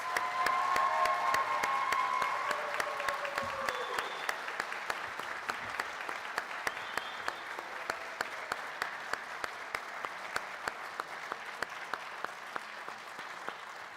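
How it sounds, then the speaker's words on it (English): Audience at a student engagement awards ceremony applauds award winners, a broad, sustained wash of clapping that is loudest at the start and slowly thins over fourteen seconds, with a few sharper individual claps standing out near the end. "Let's give these people a huge round of applause"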